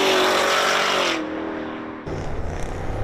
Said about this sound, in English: It's the revving of the engines, and they're constantly, this is like the main strip, constantly revving,